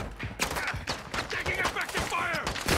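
Enemy shotgun blasts in the Call of Duty DMZ video game, several sharp, separated booming shots at irregular intervals, loud and close amid scattered in-game noise and brief voices.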